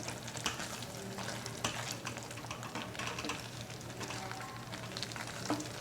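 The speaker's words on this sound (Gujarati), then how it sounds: "ભાજીને આપણે આ રીતે થોડીવાર ચડવા દઈશું જેથી તેલ બધું જ ઉપર આવી જાય" Fenugreek greens simmer in oil in a pan with garlic, giving a steady, close sizzle and frying crackle with occasional soft scrapes of a utensil against the pan.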